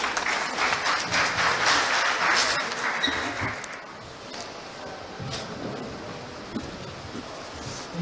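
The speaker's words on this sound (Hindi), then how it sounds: "आपकी जोरदार तालियों के बीच।" A seated crowd at an award ceremony applauds steadily, a broad wash of clapping that stays fairly loud and then eases slightly toward the end.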